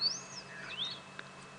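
A Sabota lark calls during a sunset safari drive, giving clear, thin whistled sweeps that rise and fall as it mimics other birds, heard alone against quiet outdoor ambience.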